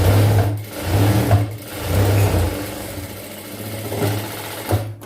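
Sewing machine stitching a pant seam in short bursts, three or four quick whirring runs separated by brief pauses, close and loud.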